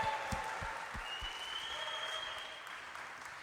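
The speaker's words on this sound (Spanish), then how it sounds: "Así debe de aplaudir, con fuerza" Audience applauding during a religious conference talk, a broad wash of clapping that fades gradually, with a few low thumps early on and a faint tone running through.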